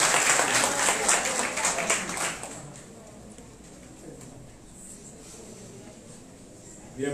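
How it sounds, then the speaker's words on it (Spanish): Brief burst of audience applause at a school science olympiad event, dense clapping that fades out after about two seconds, leaving a quiet room with low background noise. "Aplauso para nuestro técnico de disciplina."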